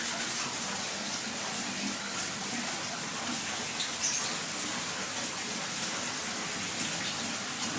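Small trickle of flowing water, a continuous soft, even splashing wash that stays close and unbroken throughout.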